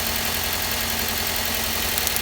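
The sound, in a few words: Mitsubishi engine idling rough with a cylinder 2 misfire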